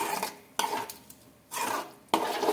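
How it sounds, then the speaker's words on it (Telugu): A whisk or spoon beats eggs into jowar flour batter in a bowl, giving bursts of wet scraping strokes separated by brief pauses, close and moderately loud. "ఇంకా ఇది బాగా కలిపేసుకొని"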